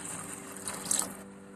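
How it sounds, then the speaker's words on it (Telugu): Chicken-boiling stock is poured into a pot of biryani rice, a brief soft splash and trickle that swells and fades within about a second, close but quiet. "మనం చికెన్ వాటర్ లో బాయిల్ చేసుకున్నాం కదా, ఆ వాటర్ ఇప్పుడు దీంట్లోకి వేస్తున్నాను నేను"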